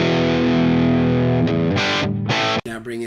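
Distorted electric guitar played through a Marshall JMP amp: a sustained, buzzing held chord followed by choppy, stuttering strums and a sudden cut, loud and close.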